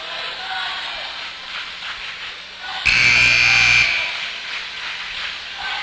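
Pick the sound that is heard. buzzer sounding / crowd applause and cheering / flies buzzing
buzzer sounding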